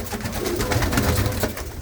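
Female pigeon held in the hand, giving soft low coos and rustling close by, a short continuous murmur of throaty calls.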